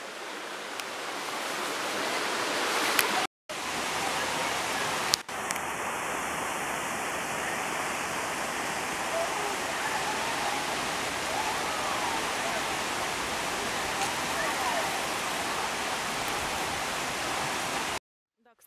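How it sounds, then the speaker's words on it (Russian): Thermal spring water in the mountains of Spain flowing and running down toward a river, a steady close rushing wash that continues throughout, with brief dropouts near the start. "Кстати, вода там проточная, то есть она бежит и вот спускается в реку."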